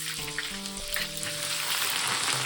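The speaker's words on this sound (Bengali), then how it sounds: "ফাঁকা তেলে ভেজে নেব।" Sliced bitter gourd fries in a pan of plain oil with a loud, dense, steady sizzle, while a faint tonal hum runs underneath.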